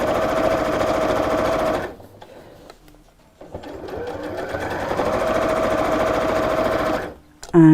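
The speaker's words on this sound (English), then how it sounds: "I'm more used to sewing without the free arm, so I'm sewing from the inside." Sewing machine stitching a seam from the inside without the free arm, a steady close mechanical whirr that stops briefly in the middle and then resumes.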